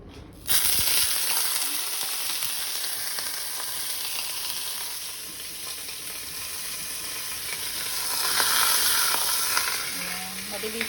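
Spinach and early potatoes fry in a pan, giving a steady close sizzle and hiss that swells briefly near the end, with a few faint clinks and no talking.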